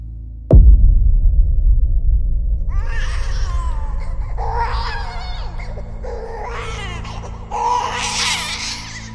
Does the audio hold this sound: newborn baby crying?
yes